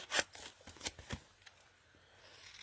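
Card paper being trimmed by hand, a few quick crisp snips and paper rustles close by, spaced irregularly and fading to quiet near the end.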